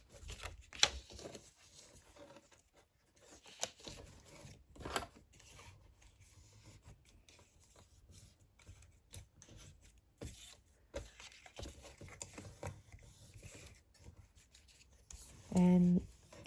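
Paper is folded and creased along score lines while a small gift box is made, giving quiet scattered rustles, taps and crinkles close by, with a short louder brush of paper near the end.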